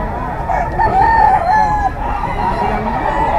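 A young stag gamecock, about nine months old, crowing loudly and close at a pet market in Bocaue, one long drawn-out crow that carries over steady background noise.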